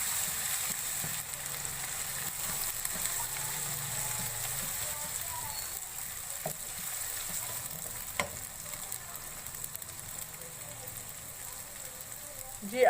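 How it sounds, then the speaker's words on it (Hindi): Garlic ginger paste frying in oil with light-browned onions for mutton keema gives a steady, soft sizzle throughout, with occasional stirring clinks from a spoon. "अब हम शामिल करेंगे लहसुन अदरक पेस्ट 1 टेबल स्पून। 1 मिनट तक हम फ्राई करेंगे।"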